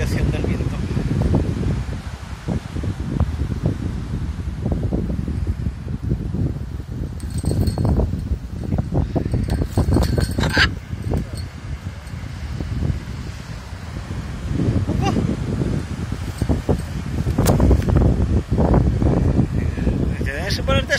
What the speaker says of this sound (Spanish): El viento viene así.